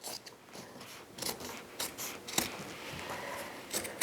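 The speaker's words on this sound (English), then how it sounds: "go ahead and cut it again right on that folded edge" Scissors snip through folded quilt fabric strips during jelly roll quilt making, a series of close, quiet crisp cuts and rasping blade slides spread unevenly over a few seconds, with no talking.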